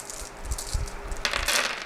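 A handful of dice clatter onto a tabletop during a North Africa 1941 Chain of Command wargame, giving a short burst of rattling clicks and knocks that brightens into denser skittering near the end, close by with no voices.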